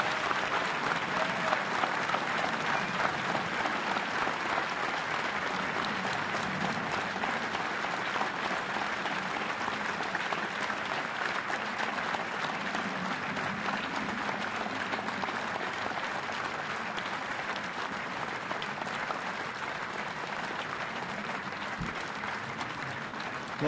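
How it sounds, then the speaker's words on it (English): Sustained applause from a standing audience at a Pearl Harbor anniversary remembrance ceremony, steady and dense for the whole stretch without letting up. "A grateful nation applauds you today."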